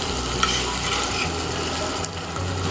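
Sardines frying in a pan for sardine sambal give off a steady, close sizzle, with a brief scrape and clatter as the fish are flipped over.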